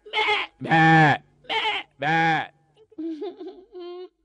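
Mimicry artist Nerella Venumadhav imitates goats bleating, giving four loud wavering bleats in a row followed by softer, higher bleating calls.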